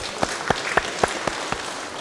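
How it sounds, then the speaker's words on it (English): Sparse, rhythmic clapping from a small church congregation, about seven evenly spaced claps in quick succession that fade toward the end, with no one talking. "Give yourselves a round of applause."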